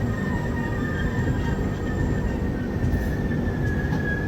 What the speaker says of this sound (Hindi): आई थिंक ब्रेक टेस्टिंग के लिए हमारी राजधानी रुक रही है यहाँ पे।